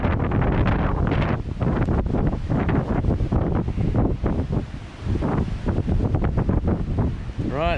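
Strong westerly wind in a remote New Zealand backcountry valley buffets the microphone in loud, continuous gusts that roar and surge without letup.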